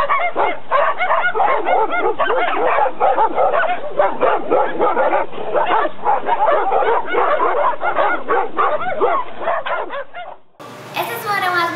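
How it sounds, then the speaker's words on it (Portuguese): A crowd of dogs in a city barks in a dense, nonstop chorus for several seconds, loud and overlapping, before it cuts off and a voice speaks briefly. "Mais de 100 cães na cidade."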